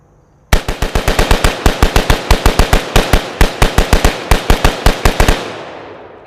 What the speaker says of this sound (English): we're going to see how quickly I can fire these 30 rounds